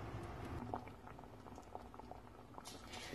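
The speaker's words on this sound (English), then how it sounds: "So it's now starting to bubble" Chicken stock in a pot comes up to a bubble, a quiet, busy run of small pops and gurgles that carries on steadily.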